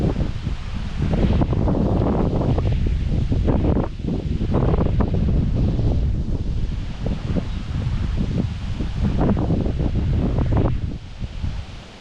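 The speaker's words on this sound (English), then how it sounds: "Slightly windy today" Wind on an outdoor crappie fishing trip buffets the microphone in heavy, rumbling gusts that roar almost without pause, easing only briefly.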